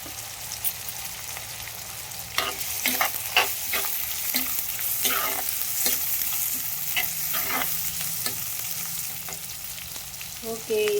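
Onions and green chillies fry in a pan for fish curry, a steady sizzle with repeated scraping stirs of the spoon at irregular intervals, close and moderately loud, with no talking.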